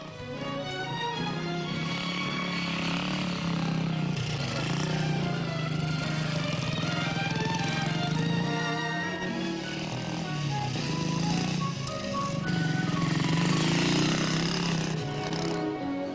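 A motorcycle engine roars loudly and continuously, its buzzing drone rising and falling slightly in pitch for the whole stretch.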